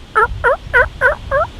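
A hunter's mouth call imitates a wild turkey's cluck: five short, sharp clucks evenly spaced in quick succession, loud and close, with no talking.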